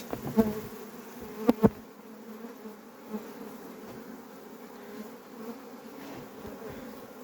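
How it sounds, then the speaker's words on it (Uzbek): Honeybees buzz around their hives in early April, a continuous droning hum with a few louder close passes near the start, no talking. "Asalarimizning holati"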